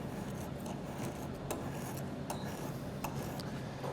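A spokeshave shaves high spots off a curved wooden stool part, giving a quiet, continuous scraping rasp with several sharper strokes standing out at irregular intervals.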